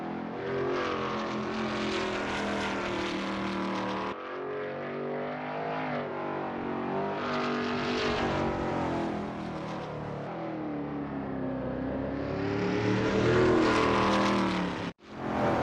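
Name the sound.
Veloce GTS-8 race car engine in a racing game at Pascani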